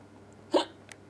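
A single short cartoonish hiccup from the video game Bubsy 3D, sharp and close, with a fainter secondary blip just after, heard alone against quiet game ambience.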